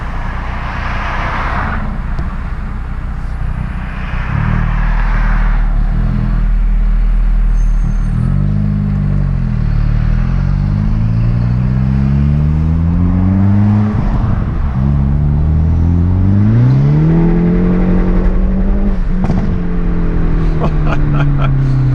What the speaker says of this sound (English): Just got a lot of tire spin there in second gear.